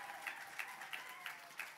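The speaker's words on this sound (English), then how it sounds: "Give them a bigger round of applause than that" An awards-ceremony audience at the Children's Books Ireland event gives a short, fairly faint round of applause, with a few sharper bursts of clapping.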